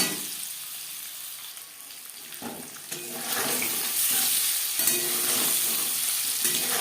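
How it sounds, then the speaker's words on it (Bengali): Eggs frying in a pan over high to medium flame for an egg and cauliflower curry, a steady bright sizzle that swells louder partway through and stays continuous, with no talk. "ডিম ভাজবো হাই টু মিডিয়াম ফ্লেম"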